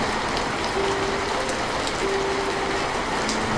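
Heavy rain pours steadily in a cartoon scene, a dense and even hiss of falling water with no pauses, and a faint hum sits beneath it.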